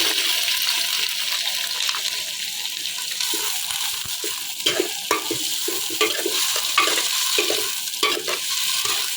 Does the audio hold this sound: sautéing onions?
yes